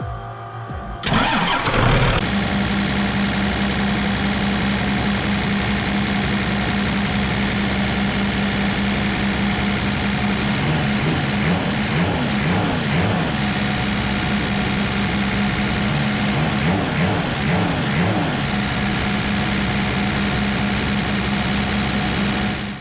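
A 1991.5 Dodge Ram W250 pickup's 12V Cummins diesel cranks briefly, catches and settles into a steady, loud, close idle with a throbbing clatter that continues for about twenty seconds.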